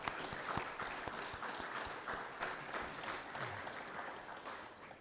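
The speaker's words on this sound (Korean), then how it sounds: "Let's congratulate them together with a big round of applause." Soft applause from a congregation at a Buddhist Dharma naming ceremony on Great Enlightenment Day, congratulating the new name recipients: scattered, moderately distant clapping that stays even throughout.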